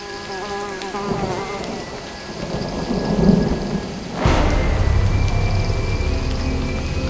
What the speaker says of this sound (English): At least, the rain's easing up.